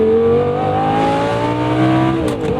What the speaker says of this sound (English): Let's double clutch into first. And give a pull.